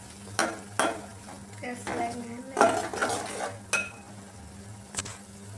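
Masala with turmeric is stirred and sautéed in a pan, a soft sizzle running under repeated scraping strokes of a spoon against the metal, with a few sharper knocks and clinks.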